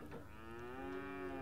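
A restrained cow moos in one sustained, rising call, loud and close, with no talking over it.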